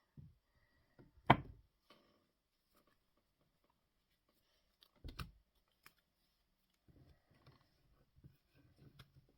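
Thick cards from a new deck being shuffled, with a loud riffling burst near the start, another around five seconds, and quieter scattered card clicks and rustles in between, close up with no talking.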